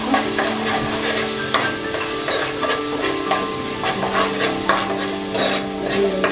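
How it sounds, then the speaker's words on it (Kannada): A ground masala paste fries in hot oil for an Udupi-style dish, a loud continuous sizzle with frequent scraping stirs, close and steady with no talking. "ಈಗ ಮಸಾಲ ಹಾಕ್ತಾ ಇದ್ದೇನೆ, ರುಬ್ಬಿರೋಂಥ ಮಸಾಲ. ಫ್ರೈ ಮಾಡಬೇಕು."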